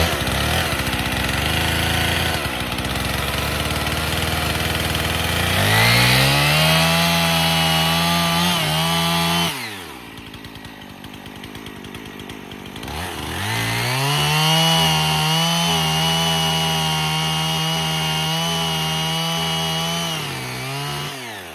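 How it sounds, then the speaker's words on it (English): A chainsaw cuts a dry oak log in half. The engine drones loudly and rises in pitch under load, eases off for a few seconds, then revs up again to finish the cut. "just cutting them 2 pieces of oak in half already dulled it because that oak is so dry"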